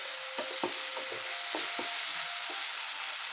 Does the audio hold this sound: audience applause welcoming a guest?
no